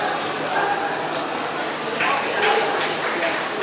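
Dogs bark and yip at the 2019 World Dog Show in Shanghai, scattered sharp calls rising out of a busy hall crowd with people talking throughout.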